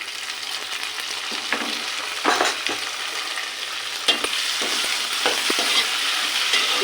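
Chopped tomatoes go into onions frying in a pan, giving a steady close sizzle with occasional bursts of stirring and scraping throughout, no voices.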